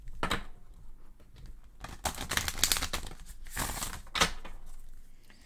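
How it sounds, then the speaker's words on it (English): Tarot cards shuffled by hand, a series of crisp riffling and slapping bursts of paper cards, close and fairly loud, with irregular pauses between shuffles and no talking. "let's give it one more time of shuffling"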